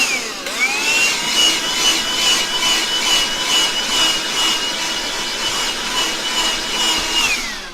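A handheld vacuum runs over a computer keyboard with a steady, high, close whine. Its pitch rises as it starts, holds steady for about seven seconds, then drops as it shuts off. No one speaks.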